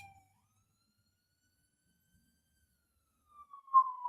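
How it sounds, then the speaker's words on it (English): An ambulance siren passes through a city in El Salvador, rising in only at the very end as a thin, faint wailing tone after several seconds of near silence. "Sorry, there's an ambulance going by"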